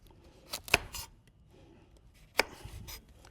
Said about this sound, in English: Now you can handle it and just cut it really thin